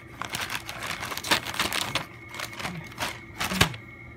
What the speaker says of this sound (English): I don't really don't like opening stuff that's made out of tape